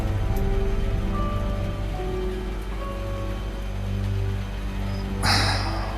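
Steady rain falls on a surface with a continuous hiss and patter that stays constant throughout, with one slightly louder burst of splashing near the end.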